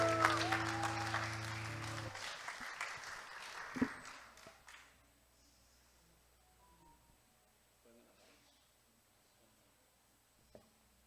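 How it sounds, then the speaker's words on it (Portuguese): Audience applause at the opening session of a carnival seminar, with dense clapping right after a samba ends that fades out within a few seconds into a quiet room with scattered small noises. "Uma salva de palmas!"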